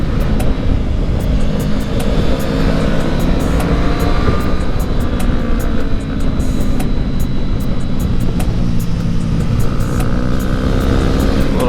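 A 2019 Honda CB500X motorcycle cruises in third gear on a winding road, its engine giving a loud, steady drone mixed with heavy rushing wind, unbroken from start to finish.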